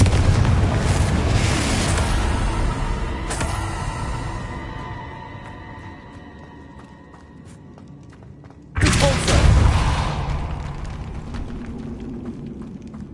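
Confringo fire-blast spell cast in a wizarding video game, a loud booming burst that rumbles and fades over several seconds, followed by a second heavy blast and a long decaying roar.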